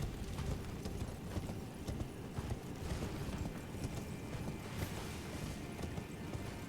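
Horse hooves clip-clopping in the video game Elden Ring, a steady run of soft rhythmic thuds over low rumbling game ambience, with no speech.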